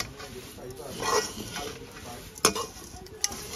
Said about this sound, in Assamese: এইফালে ধুনীয়াকৈ চিৰা ভাজি আছোঁ